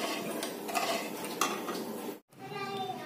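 A spoon scrapes and stirs a thickening coconut barfi filling in a pan over a medium gas flame, with repeated close metallic clinks and scrapes against the pan and faint sizzling, then a brief silent gap.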